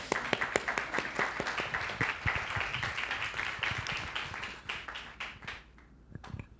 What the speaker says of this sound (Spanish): ¿cómo no pedí un aplauso para Conde?